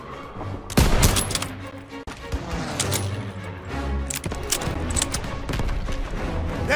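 Gunfire fills a Call of Duty: WWII street battle, with rapid rifle and machine-gun bursts, sharp single shots and heavier booms. The firing is close and loud, layered over steady combat noise.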